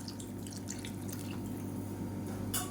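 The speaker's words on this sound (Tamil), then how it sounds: "கொண்டக்கடலை வேக வச்ச தண்ணி இருக்குது அதையும் சேர்த்துக்கலாம்" Leftover cooking water from boiled chickpeas is added to a pot of Tamil-style kulambu curry, giving quiet, faint splashes and drips with a brief brighter splash near the end.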